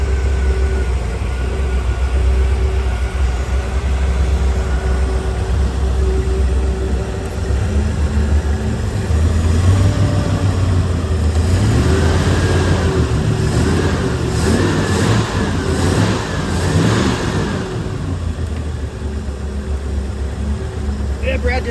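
A newly rebuilt 1986 Ski Nautique boat engine running for the first time, a steady loud low rumble with a lift in revs partway through, while people talk nearby.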